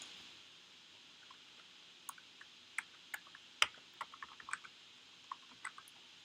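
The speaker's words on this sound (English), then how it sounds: "if we start typing that in" Intermittent keystrokes on a computer keyboard while data is entered into a CRM, sparse soft clicks in uneven bursts with a few sharper taps, close and quiet, no talking.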